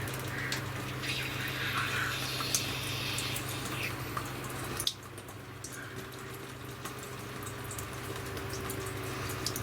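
Water gushes steadily from a rain harvester hose under pressure after a fire, a continuous rushing wash that runs close and fairly quiet throughout. A brief bump interrupts it midway, then the flow resumes.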